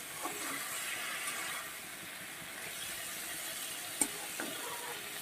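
Fenugreek greens with aubergine and potato fry under a lid in a pan, a constant broad hissing sizzle with one brief sharp click midway, no talk.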